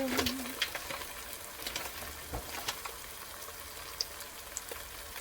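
Ground beef sizzles steadily in a hot pan, a close, continuous frying hiss with scattered crackles and pops, no talk over it.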